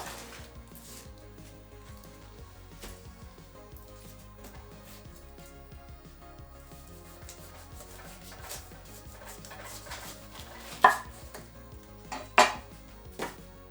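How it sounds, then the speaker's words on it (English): A knife cuts the top and bottom off a pineapple, giving faint scraping and rubbing, then a few sharper chopping thuds on a board near the end. "Cut off the top and bottom of the pineapple."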